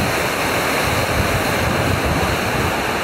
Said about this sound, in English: Still quite a steep little stream.